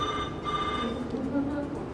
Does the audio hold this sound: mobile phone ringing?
yes